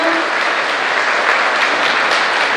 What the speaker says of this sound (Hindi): जोरदार तालियों के साथ इनका स्वागत, इनका अभिनंदन।